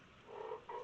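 A creature croaks in a horror video game about a scary frog: two low, drawn-out, throaty croaks, the second shorter, heard alone and fairly quiet.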